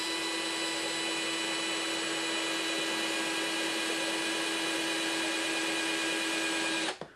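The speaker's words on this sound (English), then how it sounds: "drilling little holes here and there" A red drill whirs steadily and loudly, boring small holes into a model base, the motor held at a constant high pitch for about seven seconds before cutting off abruptly at the end.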